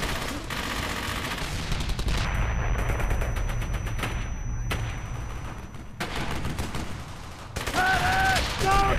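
Rapid gunfire and heavy bursts rattle through a World War II battle in Brothers In Arms: Hell's Highway, loud and continuous, with a voice briefly shouting near the end.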